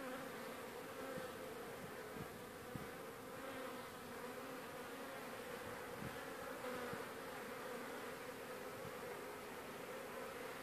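Honeybees on their first spring cleansing flight in March around the hives, a dense steady buzzing swarm that fills the air continuously with no talk.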